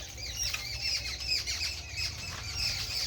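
A peacock calls in a village near Siddhpur, Gujarat, with several sharp squawking cries repeating over a low background hum, moderately distant and fairly faint.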